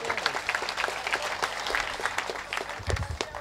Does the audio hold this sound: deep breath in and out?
no